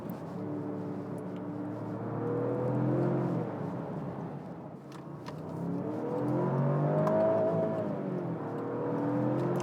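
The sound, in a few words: Jaguar F-Pace P400e plug-in hybrid accelerating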